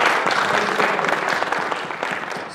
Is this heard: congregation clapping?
yes